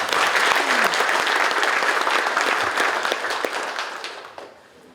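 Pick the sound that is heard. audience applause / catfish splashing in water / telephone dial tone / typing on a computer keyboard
audience applause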